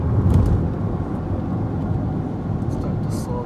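A car accelerates during a test drive, heard from inside the cabin as a steady engine and road drone with faint talking.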